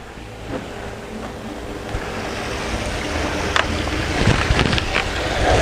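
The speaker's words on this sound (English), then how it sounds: "I'll shut up a moment so you can hear the water." Water at a ranch washes and laps steadily under gusty wind buffeting the microphone, a continuous broadband outdoor rush that swells slightly toward the end, with no voices.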